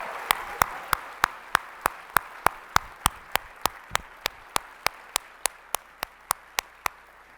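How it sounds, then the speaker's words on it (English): At a Lincoln Day dinner, one nearby pair of hands claps in a steady, even rhythm of over twenty sharp claps at a brisk pace, above a quiet room hum. "Could I please have a round of applause for Mr."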